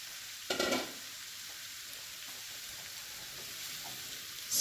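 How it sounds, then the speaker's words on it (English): Onion and zucchini frying in a pan, a steady soft sizzle throughout with a brief scrape of stirring near the start. "Stir that up to get the onion"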